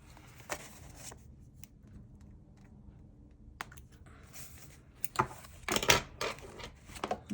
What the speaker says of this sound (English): And just cut that little tail off there.